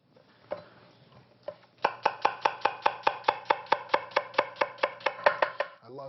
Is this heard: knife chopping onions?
yes